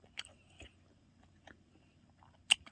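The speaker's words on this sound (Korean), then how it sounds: "먹어보니까 바삭바삭하고 비계가 없고 조금 질겨 맛은 있다." Crispy, lean, slightly chewy pork being bitten and chewed close up, a few sharp crunchy bites spaced out over a quiet background with no talking.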